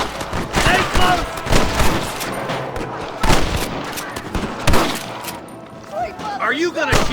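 Rapid bursts of gunfire crack and echo in a shootout with rustlers in the video game Red Dead Redemption, shots clustered irregularly and loud, with voices calling out between volleys.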